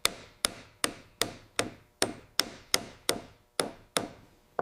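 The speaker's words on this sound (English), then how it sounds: "Nail. Tap it in." A hammer taps a nail into wood with about a dozen crisp, evenly spaced strikes, each sharp knock ringing briefly before the next, close and clear with no voices.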